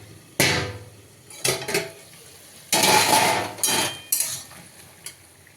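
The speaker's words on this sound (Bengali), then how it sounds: "মানে ভাজছি সব ঝিঙে আলুটা" Ridge gourd and potato being fried in a home kitchen pan, heard as several loud bursts of stirring and scraping with a soft sizzle beneath, separated by short quieter gaps.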